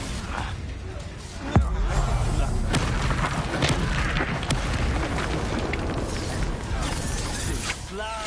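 A Confringo spell explosion in the game Hogwarts Legacy, a heavy booming blast with crackling debris that rumbles on beneath battle noise and a voice speaking.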